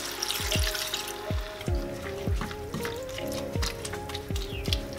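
Water goes into a large cooking pot of coconut milk, heard as a steady series of close, hollow drips and plinks over a soft liquid wash.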